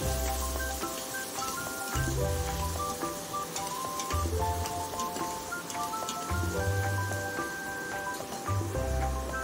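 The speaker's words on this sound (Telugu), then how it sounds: "కొద్దిగా పసుపు, బాగా ఉల్లిపాయలు బ్రౌన్ కలర్ కొంచెం వేగే వరకు తిప్పుకుందాం." Onions sizzle in an Agaro electric cooker for mutton curry, a steady crackling hiss under loud, continuous background music with no break through the whole stretch.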